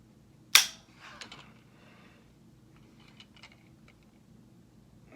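A single sharp gunshot from a Colt SP II rifle cracks out near the start, followed by faint clicks and handling noise in a quiet outdoor setting.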